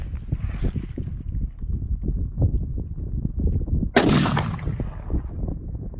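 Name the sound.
rifle shot hitting a target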